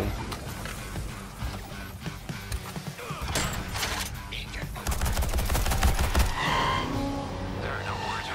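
Rapid gunfire in the video game Suicide Squad: Kill the Justice League: dense, overlapping bursts of shots that grow heavier partway through, packed among other loud game effects.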